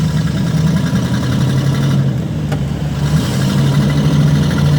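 An RV engine labours in first gear with a loud, steady low drone and hum that strains without rising, continuous and close from inside the cab.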